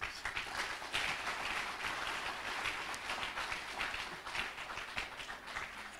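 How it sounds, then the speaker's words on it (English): Audience applause at a university hub launch, quiet and distant, a dense steady wash of clapping with no talk. "Can we give him a round of applause, please?"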